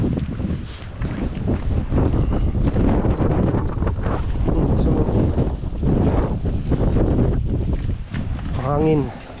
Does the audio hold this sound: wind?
yes